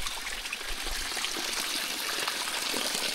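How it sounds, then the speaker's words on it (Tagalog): Mountain spring water trickling and splashing steadily from a spring-fed outlet, a continuous close rushing flow with no pauses and no voices. "Tapos tumutulo dito yung tubig"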